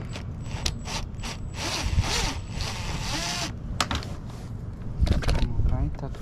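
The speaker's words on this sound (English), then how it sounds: "I'm gonna use a 7mm socket on a swivel due to the angle here." A 7mm socket on a swivel ratchets out a fog light bolt on a 2019 Ford Expedition XLT, giving steady mechanical clicking and rasping in bursts across several seconds, fairly close and without talk.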